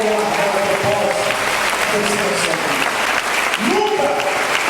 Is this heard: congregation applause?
yes